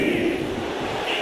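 A dense, steady roar from an arena crowd cheering at a WWE 2K24 wrestling match, loud and continuous throughout, with no distinct voices standing out.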